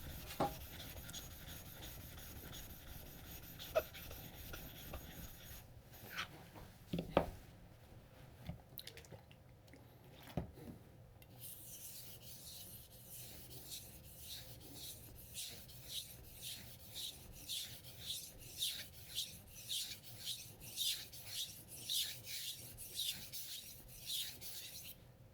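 Knife blade being worked on a whetstone, a Moritaka gyuto, heard as close, steady rhythmic rubbing strokes that grow more regular and pronounced in the second half, with a few sharp knocks earlier on.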